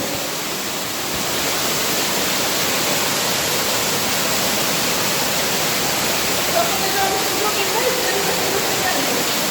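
Steady roar of an underground waterfall inside Giant's Hole cave, a dense continuous rush of falling water filling the chamber, loud and unbroken throughout.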